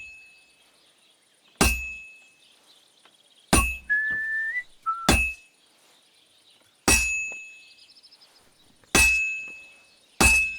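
A sword struck on an anvil at a blacksmith's forge in Kingdom Come Deliverance II, six sharp ringing metallic clangs spaced a second or two apart, each decaying quickly, with brief whistling tones between, no talk.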